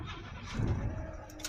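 A 1962 Chevy pickup with a 235 straight-six cranks on a cold start, a close rough churning and sputter that swells briefly in the middle without catching steadily.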